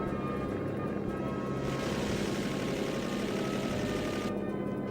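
Propeller fighter plane droning steadily in the Dreamcast game Imperial Hawk, a continuous engine hum with a brighter, louder stretch in the middle of the run, no talk over it.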